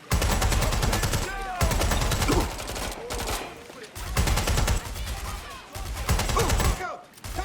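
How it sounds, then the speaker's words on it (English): Heavy gunfire in the video game Watch Dogs: Legion, with dense, loud automatic bursts in repeated waves separated by brief pauses and overlaid with shouted voices. "Taking fire!"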